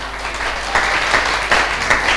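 A church congregation claps for the Holy Spirit during a worship service. The applause is loud and close, with uneven bursts of hand claps that swell in waves.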